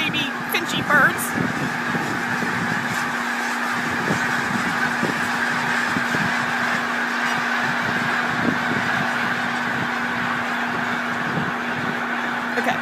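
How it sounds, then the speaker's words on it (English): A flock of snow geese passes directly overhead, dense overlapping honks and calls continuing steadily and close throughout, with a low constant hum beneath. "This is right above my head, people. Again, these are snow geese"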